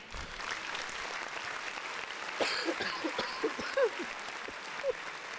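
A round of applause on a podcast episode, steady clapping under and between voices, with people talking and chuckling over it in the latter half.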